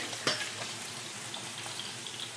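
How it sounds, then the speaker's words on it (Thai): Snakeskin gourami fish frying in hot oil, with a steady bright sizzle and a sudden spitting splatter near the start, close and moderately quiet, no voices. "ทอดปลาสลิดปลากระเด็น"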